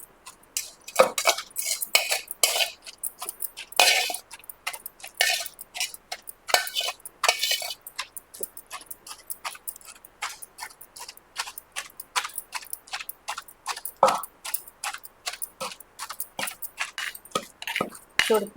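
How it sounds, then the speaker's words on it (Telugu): Cabbage chutney pounded by hand in a home kitchen, a long run of sharp, fairly faint knocks and clinks at an irregular steady pace, no voices. "ఇప్పుడు ఈ క్యాబేజీ కూడా ఇందులో వేసేసి మొత్తం దంచుదాం."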